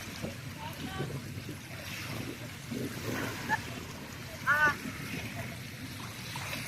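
Ocean waves roll and wash at a beach at sunset, with wind buffeting the microphone and voices talking over the surf.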